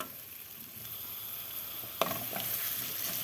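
Diced potatoes sizzle steadily in a pan with onion and tomato paste, a constant close frying hiss with a brief sharper crackle and stir partway through.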